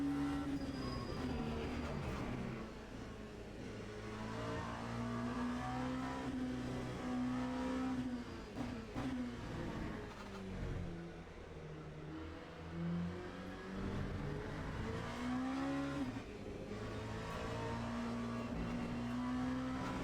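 An LMP2 prototype race car in Le Mans Ultimate accelerates and holds a high, droning engine note that rises and falls through gear changes over twenty seconds, fairly quiet and alone.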